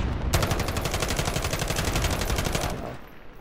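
Rapid automatic gunfire in a video game, a loud sustained burst of evenly spaced shots lasting about two and a half seconds before cutting off, with no talk over it.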